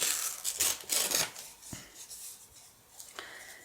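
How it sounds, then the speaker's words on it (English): Paper strips are torn by hand for a vintage junk journal, with several short, close rustling rips in the first second and a few fainter tears after, no talking. "I think I'm just going to tear again"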